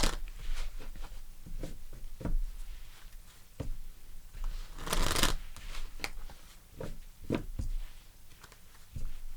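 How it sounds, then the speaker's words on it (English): Tarot cards are shuffled by hand in a steady stream of soft riffling and slapping bursts, close and continuous, with one longer, denser flurry in the middle. "Let's pull some cards and see what we have for you."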